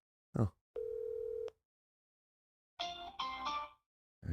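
A telephone tone sounds for about three-quarters of a second during an outgoing phone call, bracketed by brief noises, followed by silence and then a short muffled burst of talk or ringing audio.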